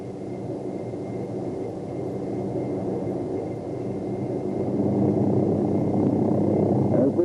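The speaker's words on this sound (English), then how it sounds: "As we watch a maximum performance takeoff, we can readily see that the maneuver differs from normal takeoff" OH-6 helicopter doing a maximum performance takeoff, a steady rotor and turbine drone that grows louder in the final seconds as power builds.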